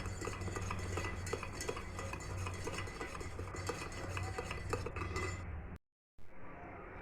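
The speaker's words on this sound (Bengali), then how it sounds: "মেয়ের বাবার জন্য একটু গ্লুকন্ডি করে দিলাম, একটু চিনি আর নুন দিয়ে দিয়েছি" A spoon stirs Glucon-D with sugar and salt in a glass, producing quick repeated clinks and scraping that run steadily and close, then stop briefly before a soft resumption.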